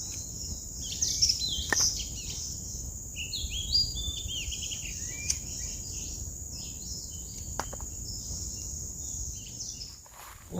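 Oriental magpie-robins call outdoors with scattered, bright chirps and short whistled phrases, some near and some farther off, over a steady high insect drone.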